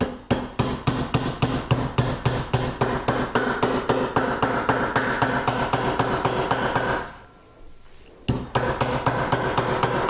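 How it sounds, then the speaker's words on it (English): A nylon mallet taps a metal ring on a jeweler's mandrel in a fast, even series of sharp strikes, briefly pausing before resuming, with no voices. "I'm going to use a nylon mallet, and I want to hammer just this end right here and bring that down to the mandrel."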